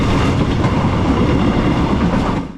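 A train rumbling loudly along the rails, a dense continuous roar with faint rhythmic clatter, fading slightly at the end.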